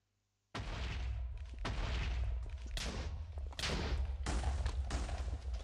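Repeated bursts of gunfire in Minecraft, close and loud, coming in several sharp volleys with booming low thuds over roughly five seconds and no talk.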